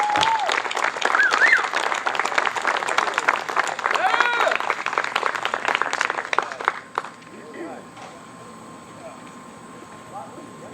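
A crowd at a Republican political event applauds a speaker, loud continuous clapping for about seven seconds before cutting off sharply, leaving quieter room noise with faint voices.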